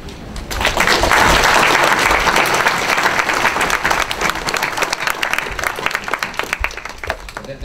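A loud, dense crowd applause for Morehouse College students standing up at a First Amendment workshop, rising quickly and staying full for nearly eight seconds before thinning slightly.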